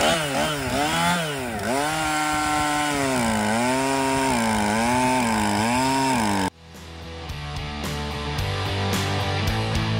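A chainsaw runs loudly up close, its engine revving up and down in repeated surges before cutting to a different, rougher idling drone.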